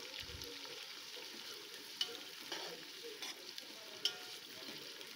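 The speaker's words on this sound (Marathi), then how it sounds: "या तेलामध्ये हे कांदे असे भाजून घ्यायचे आहे" Onions stir-fried in oil for masala rice give a quiet, steady sizzle with a few light clicks of the spoon against the pan, close by and with no voices.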